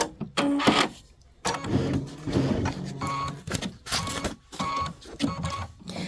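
A sewing machine stitches a bench pillow in short bursts, its motor whirring and rattling close up, stopping and restarting several times with brief pauses between runs.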